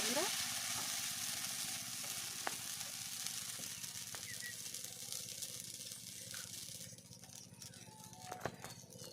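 A spoonful of semolina batter frying in hot oil sizzles with a steady, close crackle and hiss, dotted with small pops and clicks, fairly quiet overall.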